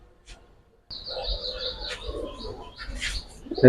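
A pigeon coos softly among light chirping and faint rustling, the calls coming in a few short, close phrases after a near-silent start.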